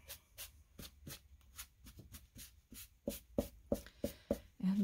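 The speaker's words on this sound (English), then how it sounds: "Take a paper towel and just kind of rub it back a little bit." A paper towel rubbed back and forth over a freshly painted floral teacup design, giving a run of quick dry scuffing strokes at a steady rhythm, growing louder and sharper toward the end, close up with no talking.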